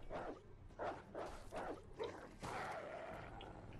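A dog barks in the zombie video game Resident Evil Resistance, a run of five or six rhythmic, mid-distance barks followed by a longer muffled yelp amid game noise, fairly faint overall.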